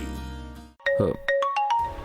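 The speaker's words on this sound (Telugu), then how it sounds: "వదిన ఫోన్ చేస్తుంది." A mobile phone rings with a melodic ringtone for an incoming call in a Telugu TV serial scene, clear tonal notes stepping upward after background music cuts out.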